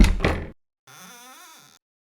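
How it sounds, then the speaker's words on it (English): A quick door knock sound effect, then a short pause and a creaking door swinging open, all clean and close with no other sounds. "I worked on making the door knock and door open as irritating as possible"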